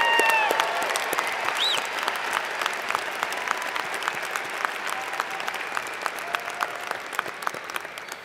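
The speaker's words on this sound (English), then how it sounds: "Everyone, a round of applause for all of these graduates." A university graduation crowd applauding the graduates, sustained dense clapping from a large audience in a hall, steady and fairly loud for the whole stretch with a few sharper nearby claps.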